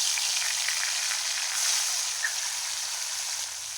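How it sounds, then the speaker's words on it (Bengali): Taki fish coated in salt and turmeric fries in hot oil, giving a steady, close, loud sizzle that holds evenly throughout without any talking. "এখন তেলের মধ্যে আমি ভেজে নিব"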